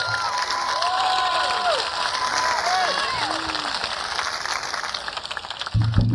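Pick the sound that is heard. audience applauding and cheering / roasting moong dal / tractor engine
audience applauding and cheering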